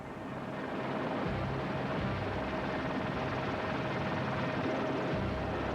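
Helicopter hovering over the sea during a rescue, a steady loud rotor drone with constant low thumping that holds unchanged from start to finish, with no voices over it.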